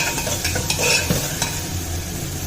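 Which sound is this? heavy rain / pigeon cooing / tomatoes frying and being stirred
tomatoes frying and being stirred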